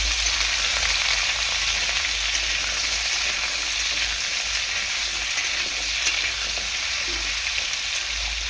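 Potatoes sizzle steadily in hot oil in a pan over a high gas flame, a constant close frying hiss with no talk.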